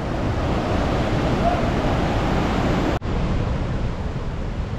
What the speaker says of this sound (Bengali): সব আইস থেকে পানিগুলো বেরোচ্ছে।